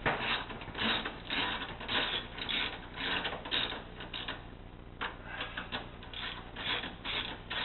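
A Nipper UC tool being wound up by hand, giving a steady run of close mechanical ratcheting and rubbing clicks with no talk.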